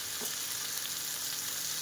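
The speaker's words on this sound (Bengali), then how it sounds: "শিমটা আগে ভেজে নেব।" Flat beans (sheem) fry in a pan, a continuous close hissing sizzle with one faint stir early on.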